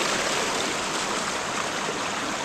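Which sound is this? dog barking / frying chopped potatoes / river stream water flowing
river stream water flowing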